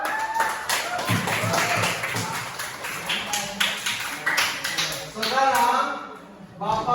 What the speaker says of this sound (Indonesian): kalian sudah semuanya tepuk tangan dulu